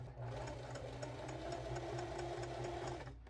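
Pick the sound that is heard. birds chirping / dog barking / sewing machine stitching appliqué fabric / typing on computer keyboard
sewing machine stitching appliqué fabric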